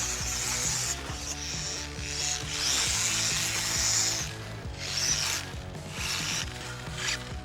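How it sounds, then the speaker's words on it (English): Steady mechanical rattling and clicking from a 1/24-scale RC car's drivetrain, with rapid repetitive ticks and gear whirring close by, no talking. "It started making a clicking noise."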